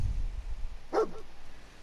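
Dogmeat, the dog in Fallout 4, gives a single short bark, close and moderately loud, over a steady low background hum.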